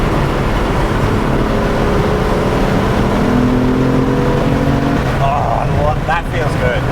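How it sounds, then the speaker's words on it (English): BMW F80 M3 accelerating on a race track, a loud continuous engine roar with rising tonal whine from inside the car, with people talking over it near the end. "I like the acceleration there"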